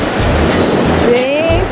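Sea waves washing onto a beach, a loud continuous surf roar with rhythmic surges through the whole stretch and a brief whistling tone near the end.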